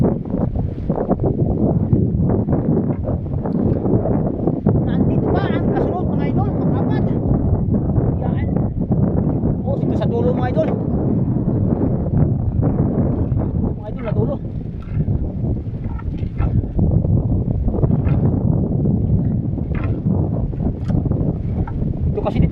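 A strong northeast monsoon wind roars across open sea on a crab-fishing trip, buffeting the microphone in a loud, constant rush while someone talks over it.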